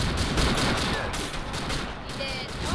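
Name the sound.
gunfire in video game Joint Operations Typhoon Rising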